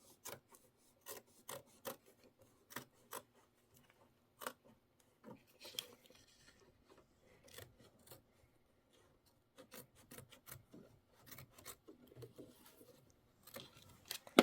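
Freshly sharpened scissors trim fabric for a Kimberbell holiday home tote sewing project, making quiet, scattered crisp snips and rasping cuts at an irregular pace in an otherwise hushed room.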